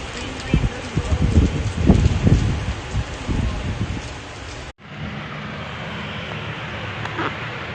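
Heavy rain pours down during flooding in the UAE, a continuous wash of water noise with people talking and exclaiming excitedly over it in the first half before the rain continues alone.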